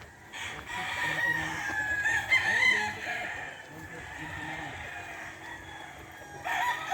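A Red Kelso gamefowl rooster at a game farm crows loudly and close by, with clucking and other farmyard noise around it.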